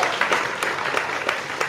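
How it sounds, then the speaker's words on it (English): A small group claps for Rachel during a late-night boxing talk show, a loose patter of claps with a few sharper hits, fairly close and brief. "Round of applause for Rachel."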